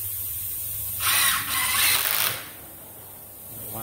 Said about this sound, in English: And you run your screws down through.